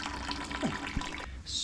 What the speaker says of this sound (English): We're going to do one more flush of water.